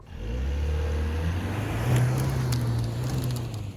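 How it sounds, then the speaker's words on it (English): A 2024 Ford Maverick Tremor pickup floored from a standstill on a 7-degree off-road slope, its engine droning and rising steadily in pitch, loud and close from inside, with faint crunching from the ground beneath. "Right now I'm on a 7-degree slope, got it set in the normal setting, and I'm just gonna floor it."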